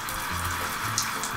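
Water running from a shower in a camper van parked in the Sahara desert, a steady hissing spray over a brief moment with no talk.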